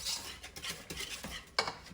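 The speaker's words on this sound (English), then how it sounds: "So let me get this stirred up." Chocolate fudge mixture stirred in a pan with a utensil, making soft scraping swishes and light clinks against the metal, quiet and close, ending in a sharper tap, with no talking.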